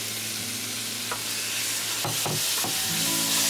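Eel pieces stir-fry with lemongrass and chili in a hot pan, giving a continuous loud sizzle broken by a few sharp scrapes and tosses of the spatula.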